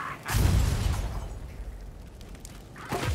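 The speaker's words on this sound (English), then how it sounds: "Oh, just explosives!" A loud explosive blast in Warhammer: Vermintide 2, a sharp boom at the start that rumbles on and fades, with a second burst near the end.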